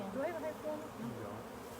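Honey bees drone around an opened beehive in Fairbanks, a close, fairly soft buzzing with wavering pitch as individual bees pass near, while people speak faintly in the background.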